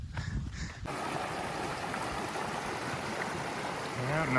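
A stream of silty water runs beside a hiking trail through a burned forest area, a steady close rushing and gurgling flow that starts abruptly and continues throughout without talk.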